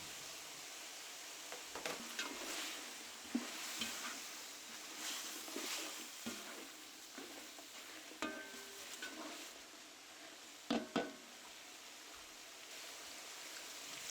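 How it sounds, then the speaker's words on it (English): Sweet peppers and onion stir-fried in a pan with a soft, steady sizzle and occasional scraping stirs, fairly quiet and close with no talking. "Mix, mix, mix, and then add sweet peppers and onion."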